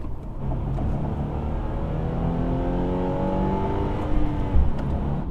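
A 2020 Subaru Impreza 5-door hatchback engine revs and accelerates hard up an on-ramp with a steady, rising drone that climbs through the gears, loud and continuous with no talking.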